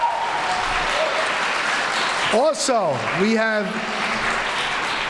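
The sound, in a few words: audience applause at a school assembly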